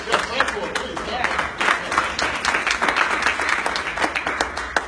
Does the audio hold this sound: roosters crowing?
no